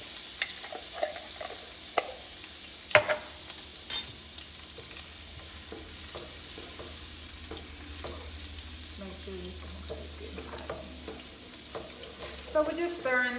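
Minced garlic sizzles quietly in a pan over moderate heat while a utensil stirs and scrapes it, with occasional sharper clinks and taps against the pan.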